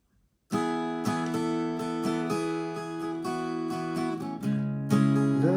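A guitar plays the bridge of a song: sustained strummed chords with periodic fresh attacks, close and clear, shifting to a new chord near the end, with no voices.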